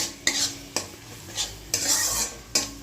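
A metal spatula scrapes and stirs masala in a frying pan with plenty of oil while cooking Bengali tel koi. Five loud scraping bursts come at an irregular rhythm, close up, with a light sizzle beneath.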